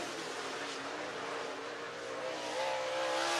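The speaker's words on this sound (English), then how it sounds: "Top of the board, 12:915 for Joseph Joyner, the Capital Race car." A race car at a qualifying session, likely on a short track, roars past at speed, a steady distant engine wash swelling slightly as it approaches, with no talking.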